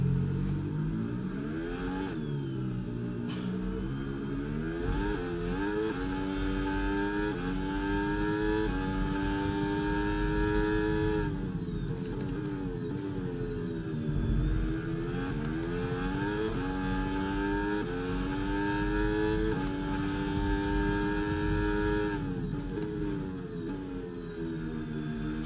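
An F1 26 race car engine at Monaco howls steadily at close range, rising and falling through repeated upshifts and downshifts as it accelerates and brakes through corners, loud and continuous throughout.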